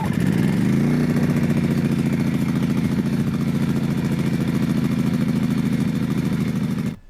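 A Wen 56200i 2000 W inverter generator is pull-started. The engine catches within a second, then runs loud and close with a steady, buzzing drone and no voices.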